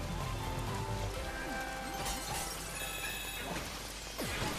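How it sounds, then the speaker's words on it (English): Rain pours steadily in the Astro's Playroom video game, a dense, continuous wash of falling water layered with game effects and a few whooshing sweeps. "And look, it's even raining."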